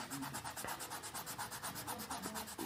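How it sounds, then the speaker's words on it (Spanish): A small piece of sandpaper scrapes a bicycle inner tube around a puncture before patching. Quick back-and-forth rubbing strokes repeat in an even rhythm, close and fairly quiet, with no talking. "usaremos un pequeño pedazo de lija para raspar un poco la cámara"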